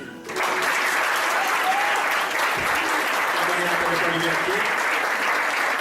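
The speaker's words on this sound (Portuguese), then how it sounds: "Se você puder aplaudir." A congregation claps in an evangelical Pentecostal church service, with dense, steady applause starting abruptly and filling the room for several seconds, and faint voices underneath.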